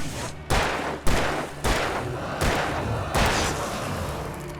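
Heavy gunshots ring out in Alan Wake Remastered, five or six loud, evenly spaced blasts about half a second apart, each with a booming tail.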